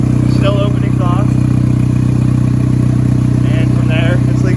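A steady, loud turbocharged Acura CL engine with an H22 and an open exhaust idles with a deep, constant drone and rattly exhaust, while voices talk over it.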